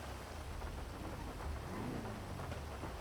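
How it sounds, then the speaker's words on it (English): Steady rain in the online role-play game GTA NoPixel falls as an even, continuous hiss across the whole stretch, with a low rumble underneath and no voices. "Why is it raining?"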